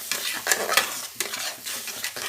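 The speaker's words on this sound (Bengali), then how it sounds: "দিয়ে সুন্দর করে নাড়িয়ে নেব কষিয়ে নেব ও অল্প একটু জিরে গুঁড়োও দিয়েছি" Masala with ground cumin being stirred and fried in white oil for a prawn malai curry, with rapid, repeated spatula scrapes against the pan over a constant sizzle, close up, in bursts with short pauses and no talking.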